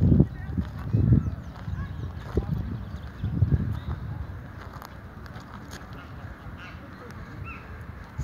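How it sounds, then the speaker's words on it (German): Soft honking and chattering calls of geese and goslings, fairly close, in short bursts over a quiet outdoor background with faint voices. "Aber viel süßer sind die kleinen Gänse."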